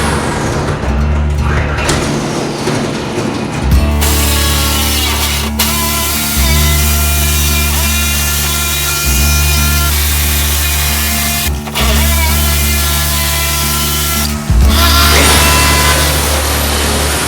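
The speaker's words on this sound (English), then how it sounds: "So I went and got a longer blade for the Sawzall, and so it'll cut through." Reciprocating saw (Sawzall) with a longer blade cutting through a wooden shed wall for a window opening, loud, close buzzing in long runs broken by brief stops and restarts.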